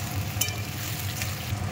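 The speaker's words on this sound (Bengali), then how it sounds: "কড়াইতে পেঁয়াজ কুচি একটু ভাজা ভাজা হয়ে গেলে তারপর টমেটো কুচি রাখা ক্যাপসিকাম কুচি দিয়ে দিলাম" Chopped onion, tomato and capsicum frying in a wok, a steady close sizzle with faint crackles and light stirring scrapes throughout.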